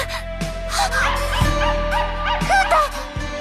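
Frightened dogs in an anime yelp, whimper and bark in quick overlapping bursts over a loud, rumbling backdrop with sharp impact hits.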